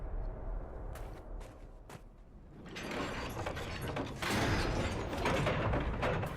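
A shortcut door is unlocked in Dragon Age Inquisition with a few clicks, then a steady mechanical creak and grind of gears and latches that grows louder as the door works open.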